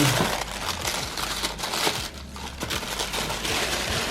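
A paper bag crinkling and rustling up close as it is opened, a continuous crackly handling sound without speech.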